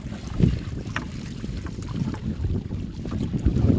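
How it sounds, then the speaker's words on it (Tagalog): Wind is picking up over the open sea around a small fishing boat, a steady rushing and buffeting roar with low rumbling gusts throughout and no talking. "Medyo lumalakas yung ihip ng hangin ah."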